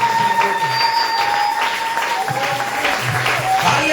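A church congregation breaks into sustained applause, a dense, steady wash of clapping with some voices mixed in, holding loud and even throughout.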